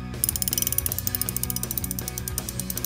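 Rapid, rhythmic clicking of a Craftsman ratchet, close and crisp, a steady run of sharp mechanical ticks with brief pauses as the handle swings back and forth.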